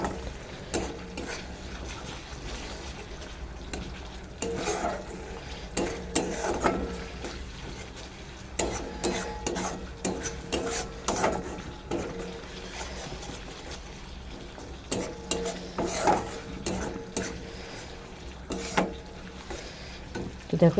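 Egg curry masala in a home kitchen pan sizzles softly while a spoon scrapes and stirs it, giving intermittent scraping bursts over a low constant fry.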